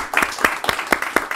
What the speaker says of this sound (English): we're gonna give a round of applause